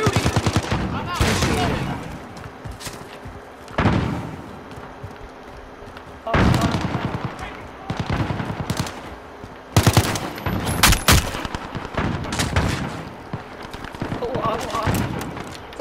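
Gunfire in Call of Duty: Modern Warfare survival mode: rapid bursts of automatic weapon fire and sharp shots come in loud clusters, some near and some further off, with players talking over the shooting.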